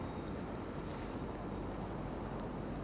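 Wind gusts buffet the microphone on a city walk through Toronto, a steady loud rumbling roar that fills the whole stretch without pause.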